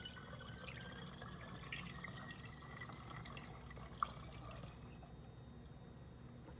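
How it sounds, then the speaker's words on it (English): Homemade stain remover with peroxide and baking soda poured through a funnel: a faint, continuous liquid trickle with a single small click, fading out near the end. "Now I'm just going to use this funnel. We're going to get our solution put in there."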